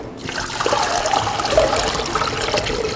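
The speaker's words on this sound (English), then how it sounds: "And then we can pour it on right on in there too." Vegetable broth pours steadily into a bowl, a continuous close splashing trickle of liquid running for the full three seconds with no talking over it.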